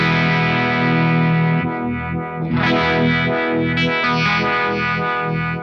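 A Sabbadius Funky Vibe, a Uni-Vibe style pedal, kicks on under a sustained distorted electric guitar, adding a swirling, pulsing warble to the held chords, loud and steady with no voices.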